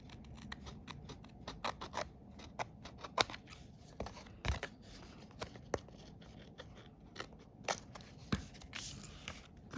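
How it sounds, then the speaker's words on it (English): Scissors snipping through paper in short, irregular cuts, fairly quiet and close, with small crisp clicks between snips and no talking. "just cut it off with your scissors."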